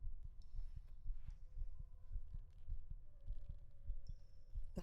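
Steady heartbeat thumping in a tense exploration video game, a continuous run of low, evenly spaced double pulses with a faint hum and occasional high tones above, with no talking.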